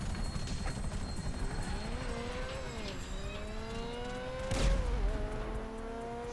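Helicopter rotor drone in GTA 5, a steady low chopping hum with shifting engine tones running the whole time, swelling louder near the end amid car and game noise.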